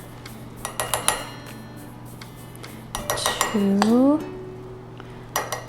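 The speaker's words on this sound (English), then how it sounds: "To this I'm going to add 5 tablespoons of flour." A metal tablespoon scoops flour into a mug for a microwave mug cake, giving a run of light clinks and taps against the mug, with a voice counting between them and a squeaky rubbing sound in the middle.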